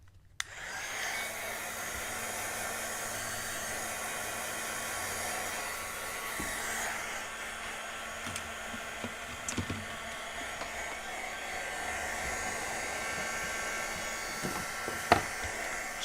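A hair dryer blowing steadily over wet gesso on canvas, a constant close whirring hum held for a long stretch, with a few faint clicks and knocks underneath.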